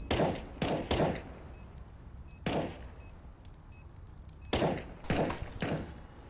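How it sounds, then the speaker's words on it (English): Gunfire in a Counter-Strike match on the Overpass map: several sharp, loud shots come in clusters, two quick ones, a lone blast, then a final burst of three, with a faint hiss between them. "You hear the shots"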